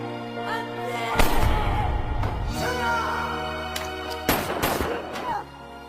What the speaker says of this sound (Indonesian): Ketika peluru ditembakkan, Chul mengorbankan dirinya untuk melindungi Jujun.